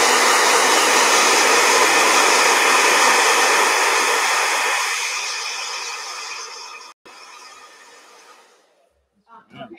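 A handheld blow dryer drying a painting roars loud and close, then fades out over several seconds and cuts off, leaving near quiet with a brief knock at the end.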